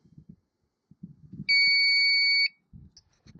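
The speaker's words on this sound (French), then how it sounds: "il va biper quand il faudra s'arrêter" Seed sowing counter for coriander seed emitting a single steady electronic beep lasting about a second, clear and close, with faint mechanical tapping and handling noises before and after.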